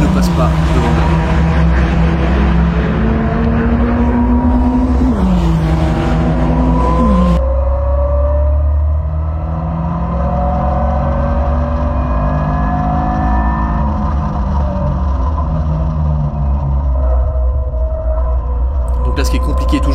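A Caterham race car howls at full throttle on track, its engine note sweeping up and down through gear changes and long corners, loud and close throughout while someone talks over it.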